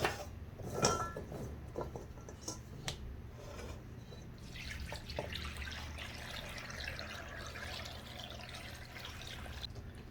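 Rice-washing water poured over chopped tobokryeong (smilax root) to steep, with faint drips and a soft, steady trickle and splash in a quiet room, no talking.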